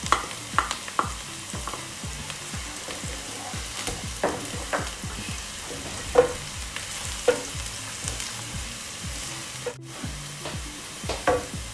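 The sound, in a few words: garlic sautéing in a pan for beef lasagna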